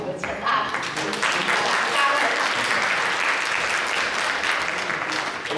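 An audience at a concert claps warmly to welcome Ambassador Chen, with sustained, even applause filling the hall throughout and a voice briefly audible near the start.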